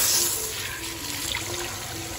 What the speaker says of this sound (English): let's go ahead and add water to their setup